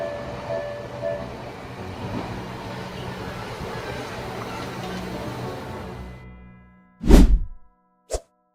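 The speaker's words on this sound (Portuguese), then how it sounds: "O trem seguia com um enorme impulso quando atingiu o veículo" A train moving with heavy momentum slams into a vehicle at a crossing: a long, loud rumbling roar fades out, then after a brief hush one heavy crashing impact hits hard, followed by a shorter second knock.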